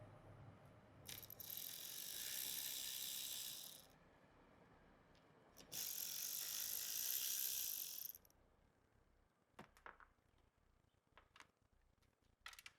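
A 10mm wrench ratchets on a Jeep JL battery power terminal, two long steady bursts of fast clicking separated by a pause, then a few sparse metallic clicks and taps, close and fairly loud with no talking.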